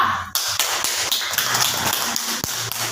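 Classroom of students applauding a presenting group, dense clapping starting abruptly after a brief pause and continuing steadily, close and loud with overlapping hand claps.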